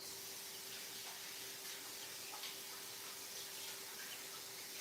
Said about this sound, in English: I'm going to rinse this bottom part out.